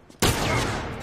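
A single loud, close shot from the El Diablo revolver in The Last of Us Remastered cracks out suddenly and then rings away in a long, fading tail.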